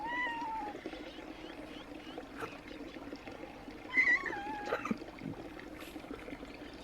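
A calico cat in Kingdom Hearts 3 gives a few short, faint meows, one early and a couple more midway, over a soft continuous game ambience.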